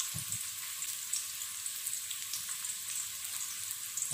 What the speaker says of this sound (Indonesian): Nah cabenya ini kita tumis dulu biar pedasnya keluar ya